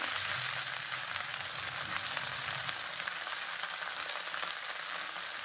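Kardai (safflower) leaf greens frying in a pan, giving a steady soft sizzle that carries on evenly with no voices.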